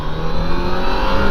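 A Yamaha FJR1300 motorcycle engine pulls hard under acceleration on a cold day, a loud close steady drone with a rising tone and no voices over it.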